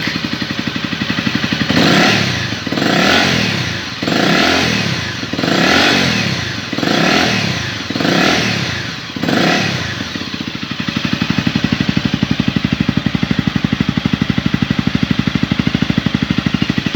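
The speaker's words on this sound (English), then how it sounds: "Started up and it's idling." A rebuilt Honda CRF250L motorcycle engine close by revs up repeatedly in rhythmic surges, about six times, then settles into a steady, loud idle.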